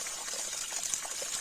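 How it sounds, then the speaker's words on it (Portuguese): Clean water trickling and flowing steadily through a fine mesh screen in a forest water source, a soft continuous wash heard close up without speech. "sai aqui embaixo só a água limpinha"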